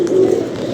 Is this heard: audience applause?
no